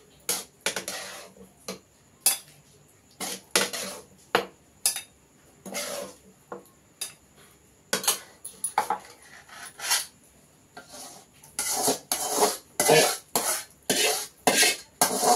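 Okra and yogurt chutney being mixed in a bowl, with repeated clinks and scrapes of a spoon against the dish in short irregular bursts that grow busier toward the end, close up and with no talking.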